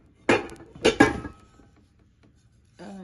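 Metal cookware lid, the medium-size lid from a Tramontina cookware set, handled while unboxing, giving two close clanking knocks of metal followed by a brief rattle, with a short burst of speech at the end.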